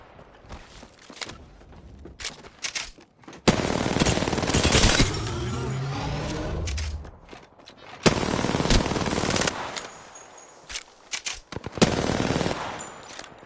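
Automatic gunfire in the battle royale game Apex Legends, with bursts of rapid shots separated by short pauses and a long sustained volley in the middle, loud and close with no talking.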